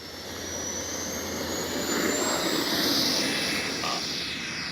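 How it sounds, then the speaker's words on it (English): Freewing A-4 Skyhawk 80mm RC jet taking off, its electric ducted fan building into a loud, steady rushing whine that rises slightly and then holds as it passes, close and unbroken. "Takeoff flaps. All right, here we go."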